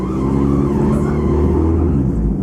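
A Lotus Excel car engine pulling away on a street, steady and fairly loud throughout, a low rumble that rises slightly as it drives off with no talk.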